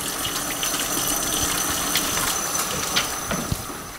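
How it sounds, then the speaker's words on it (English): A kitchen tap runs steadily for hand washing after handling raw egg, a continuous close gush of water splashing into a sink with no talking. "I'm gonna wash my hands really quick"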